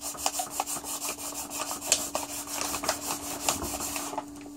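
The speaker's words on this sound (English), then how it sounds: "I'll do a little bit of sanding first, right around the edges here" Close, steady rasping of sandpaper rubbing back and forth along carbon fiber edges in quick repeated strokes, with a faint constant hum underneath.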